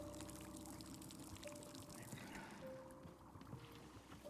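Water pouring in the video game Wanderstop, a soft, fairly faint splashing flow over quiet sustained musical tones, easing slightly toward the end.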